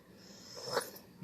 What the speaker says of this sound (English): My dog wants some, apparently.